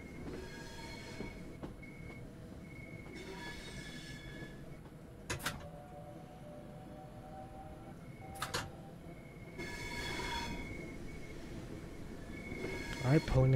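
A Southeastern Highspeed train in Train Sim World 3 pulls into Gillingham station with a steady rolling rumble, periodic sharp wheel clicks and recurring brake squeals, close and continuous.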